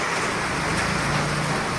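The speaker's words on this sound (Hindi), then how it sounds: "बहुत सारे ओले गिर रहे" Hail falling during a summer rain shower on Holi, heard as a dense, continuous rattling patter of ice and raindrops on surfaces, loud and close, with no speech.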